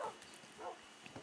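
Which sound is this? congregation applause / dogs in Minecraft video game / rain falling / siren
dogs in Minecraft video game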